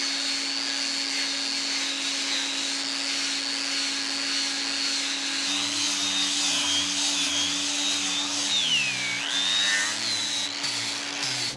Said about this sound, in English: The deck sanding with the angle grinder and the dust shroud seems like it's going pretty quickly